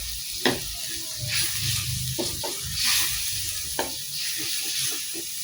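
Chilies sizzle in a hot pan of eggplant curry, a continuous crackling fry with scattered pops and a few light stirring knocks, fairly quiet and close.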